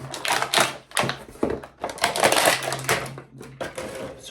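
A Razor Ramon WWE Monday Night War action figure is torn from its plastic and cardboard packaging in close, loud bursts of crackling, crunching and ripping with brief pauses between pulls.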